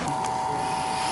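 A Chinese-made vacuum pump pulls vacuum on an air conditioner line set for a solar-powered kennel cooling system, giving off a steady, even mechanical drone with a constant tonal hum, close and unbroken.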